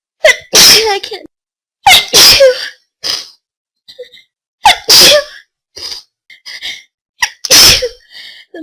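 A rapid series of forceful human sneezes, loud and close, each burst sharp and explosive, some preceded by short sharp inhales, with brief pauses between them.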